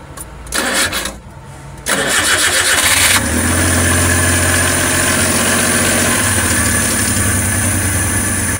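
A Suzuki K6A engine in a DA62T cranks over briefly, then catches and settles into a steady, loud idle that continues to the end, with no voices.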